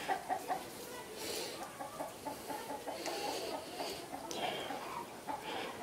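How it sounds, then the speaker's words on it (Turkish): Several chickens in Çağlarca, Antalya cluck in short, repeated bursts close by, nervously reacting to a frog, with a continuous outdoor farmyard ambience underneath. "Tavuklara bak, tavuklar kurbağa görünce ne hale"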